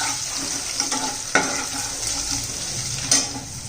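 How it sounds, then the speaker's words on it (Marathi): Whole cinnamon, cloves and peppercorns sautéing in a pan for veg pulao, a continuous near sizzle broken by occasional clinks and scrapes of stirring. "दालचिनी लवंग मिऱ्या हे हे छान असं परतून घ्यायचं आपल्याला"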